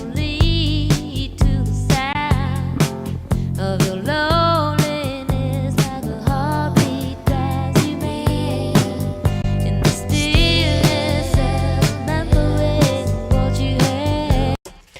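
A song plays as a full band mix with steady drums, bass and vocals, switching between the 1976 mix and the 2004 remaster at a continuous, fairly loud level with no talking.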